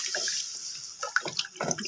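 Milk being poured into a cooking pan for a chicken and vegetable kabab mixture gives a short, close liquid splashing and trickling, quiet and alone.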